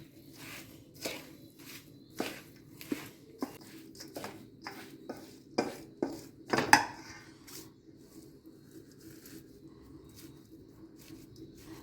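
A spoon scrapes and knocks in a pan while methi laddu mixture is worked together with jaggery, a string of light irregular clinks and taps, fairly quiet, with no talking.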